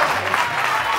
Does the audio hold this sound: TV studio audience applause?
yes